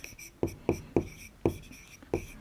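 Chalk or marker writing words on a classroom board during a lesson, about six sharp taps and short strokes in an uneven rhythm, close and clear, with no talking.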